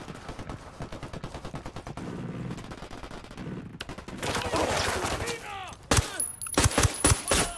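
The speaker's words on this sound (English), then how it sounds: "Lunadad's firing on the cartel" Rapid automatic gunfire during a firefight with cartel fighters in the video game Ghost Recon Wildlands, dense bursts and fusillades with heavier blasts and echoing reports, a voice briefly audible over the shooting.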